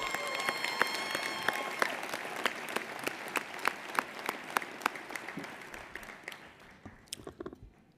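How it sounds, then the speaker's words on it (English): Audience applause at a banquet, a dense wash of clapping that swells and then thins out toward the end, with individual claps standing out near the close. "Let's give Paul Malloy another round of applause."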